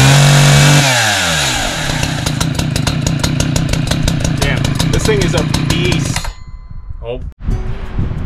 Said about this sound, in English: I got the chainsaw to start up